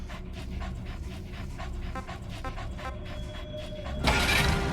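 A dog companion in the stealth game Metal Gear Solid V pants in quick, steady breaths close by, with faint game mechanisms under it and a louder rush of noise in the final second.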